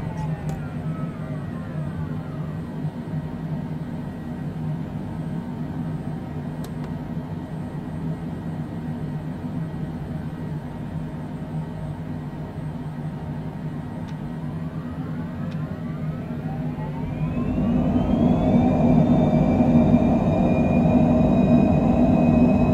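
A Cessna's engine hums in Microsoft Flight Simulator 2020 during takeoff from runway 33 left in Seoul, a steady drone that rises in pitch and grows louder as power comes up near the end.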